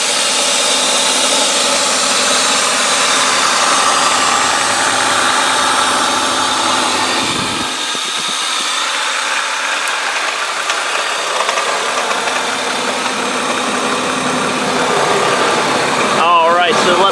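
A 2.8-liter engine in a 1998 BMW 328is coupe idles steadily, a continuous mid-range hum heard close up with no talk, briefly dipping midway.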